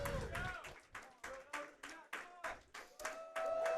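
A venue crowd at a Street Fighter 6 grand finals event claps in bursts with a few cheers, about eight sharp waves of applause, close and lively, while an announcer's voice carries over it.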